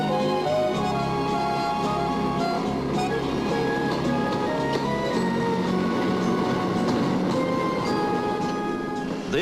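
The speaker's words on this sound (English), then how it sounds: "on a mine train that will take you back to the pioneer days" A Disneyland mine train rolls steadily along its rails, a continuous loud rumble with squealing, ringing wheel tones and clattering, close and unbroken throughout with no talk.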